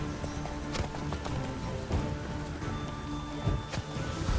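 A horse trots in the video game The Witcher 3, its hooves clip-clopping in a steady rhythm close by, with a faint rain-like patter underneath and no speech.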